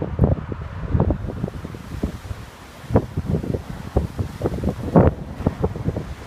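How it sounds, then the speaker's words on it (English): Strong gusts of wind batter the microphone at a beach town in Santa Ponsa, Mallorca, in irregular buffeting bursts, with faint surf in the background. "it's extremely windy today"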